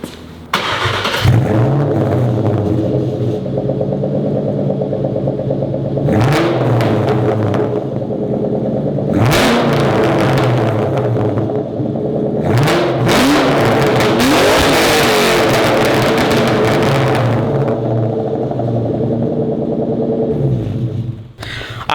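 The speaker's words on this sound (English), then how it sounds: "So I'm going to turn the car on. We don't want all the pipes to get too hot. Couple revs, let's go." A Ford Mustang SVT Cobra engine with upgraded headers idles with a deep rumble, then revs sharply several times in bursts, loud and close, settling back to a steady idle between revs.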